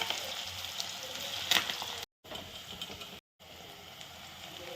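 Bitter gourd fries bubble in hot oil with a faint, continuous hissing sizzle, briefly cut off twice, close by and alone.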